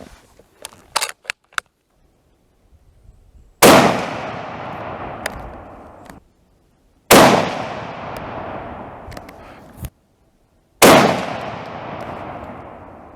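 Three loud, sharp rifle shots from a Parker Hale Lee Enfield in .303 British firing Remington 180 grain Core-Lokt rounds, spaced a few seconds apart, each with a long decaying echo, after some quiet handling clicks.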